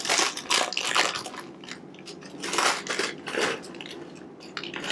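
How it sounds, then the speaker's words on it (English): A food processor pulses dark 72% dairy-free chocolate chips for nice cream, giving loud, close bursts of gritty crushing and rattling that swell and ease in short pulses. "And I'm just going to put them in pulse for just a second."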